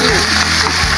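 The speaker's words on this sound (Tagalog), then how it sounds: "lagay na natin tong sauce" Sauce poured into a hot pan of frying tuna steak with vegetables, producing a loud, continuous sizzling hiss and bubbling splatter, close up and without talk.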